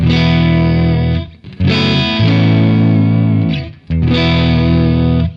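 Distorted electric guitar chords through a Fractal model of a Marshall JTM45 amp ring out loud and saturated, strummed in a few sustained bursts with short gaps between them, no voices.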